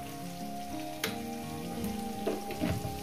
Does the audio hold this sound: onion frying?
yes